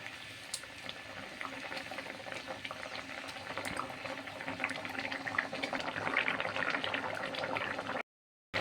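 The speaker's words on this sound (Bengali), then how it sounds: "আমার মাছ রান্না হয়ে গেছে, ঝোল ফুটে গেছে ভালো করে।" Rohu fish curry gravy, made with poppy seed, bubbling at a steady boil in a pot, with a dense, continuous blup and hiss of simmering liquid close by, cutting off briefly near the end.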